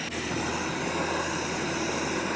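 A camping stove burner roars steadily at close range, a broad even rush of flame heating about 1.25 cups of water, with no talk over it.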